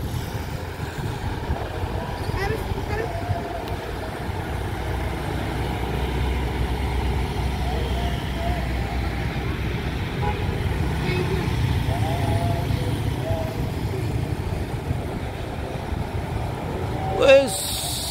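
A Harapan Indah Sleeper bus on an Aceh-to-Medan route drives past with a steady, loud engine and road rumble, and a brief louder peak near the end.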